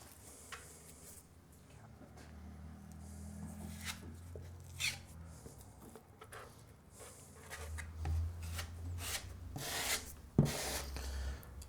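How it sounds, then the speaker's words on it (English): Trade set plaster being pressed and scraped into a hole in plasterboard, with soft continuous rubbing and scraping strokes and a few sharper taps, quiet and close. "Now to fill the hole, I've mixed up some more trade set, and that's what I'm going to use."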